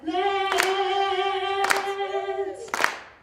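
Three sharp hand claps spaced about a second apart, keeping time along with a sung vocal that carries a held, steady note underneath.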